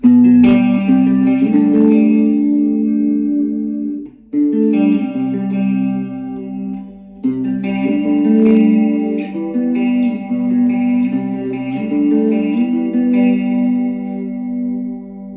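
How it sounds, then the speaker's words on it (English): Electric guitar chords played through a Sonicake Amp Toast Bluetooth amp ring out through a shimmering, wavering modulation effect, sustained and fairly loud, with a short dip in volume between phrases. "let's put on some of these effects that we've got. So this is the modulation."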